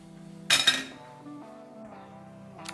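A baking dish of zucchini, mozzarella and ham timbale set into an oven preheated to 180 degrees, with a sharp clatter of dish on rack and clinks, then a quiet hum and small knocks.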